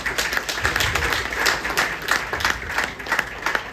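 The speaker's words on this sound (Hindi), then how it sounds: "ताली बजाइए।" Audience at a business plan presentation claps steadily in a dense, continuous burst of many hands, fairly close and loud, with no speech on top.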